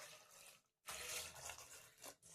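Water pours into a pressure cooker holding washed vegetables for pav bhaji, two soft, fairly quiet gushes split by a brief silent gap, with no speech.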